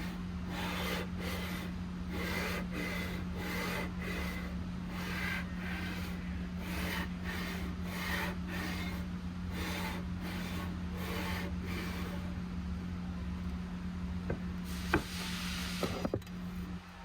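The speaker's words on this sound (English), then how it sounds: "the genius glued new sandpaper onto the granite block" Hand sanding with fresh sandpaper glued to a granite block, steady back-and-forth rasping strokes in an even rhythm, close and continuous, with a few sharp clicks near the end.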